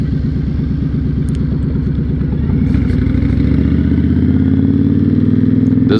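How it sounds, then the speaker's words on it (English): A 2006 Honda VTX1300 motorcycle engine idles and lopes at low RPM, a steady loud rhythmic thump close by, the pitch rising slightly toward the end as it revs a little. "This bike has a real nice sound. I don't know if you guys can hear on camera, but when it's like real low RPMs"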